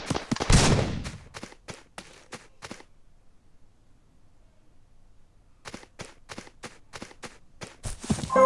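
Rapid bursts of sharp video game gunshots crack out in a mobile battle royale game, fall silent for a few seconds, then another volley of quick shots follows.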